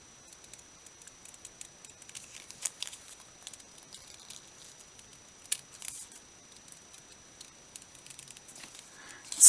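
Scissors trim around a paper greeting card for a watercolor spring design, with faint, close, crisp snips and clicks scattered irregularly over near silence.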